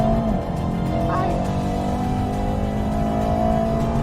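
Audi RS6 and Mercedes-AMG E63S wagons accelerating side by side in a drag race, a loud, sustained engine drone that holds and slowly climbs in pitch, heard from inside a car with no talk.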